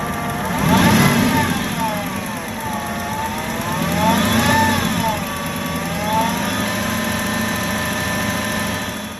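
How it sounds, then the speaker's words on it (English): An Aston Martin V8 engine with piston slap runs steadily close by, its revs rising and falling in slow waves over a continuous mechanical drone, with no talk. "Now here's a V8 engine that is exhibiting some piston slap."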